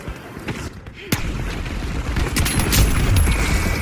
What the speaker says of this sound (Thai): Using Blitz Grenade!